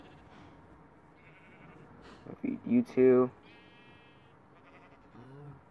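Sheep bleating in the Jurassic Craft video game, a few loud wavering bleats in the middle with a fainter one near the end, over a quiet game background while a person talks briefly.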